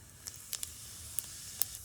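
Oil left from frying eggs crackles and sizzles softly as white cumin seeds hit it, with a few sharp pops rising above a steady low hiss.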